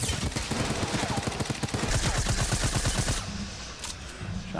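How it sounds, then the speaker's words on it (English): Rapid gunfire in a Fortnite tournament match, dense bursts of automatic shots in quick rhythm for several seconds, then tapering off, with faint commentary underneath. "Shots from Tendons burning through potentially what he has left."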